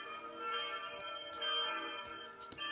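A historic church bell cast in 1526 rings in a chapel, its sustained metallic tones overlapping, with a few sharper strikes near the end, moderately distant and fairly faint.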